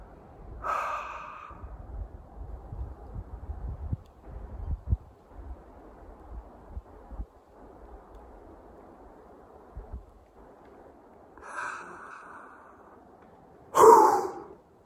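Heavy breathing exercises outdoors after a cross-country ski race, a few loud close exhalations and gasps separated by quieter stretches of soft breath and wind noise, with no talk.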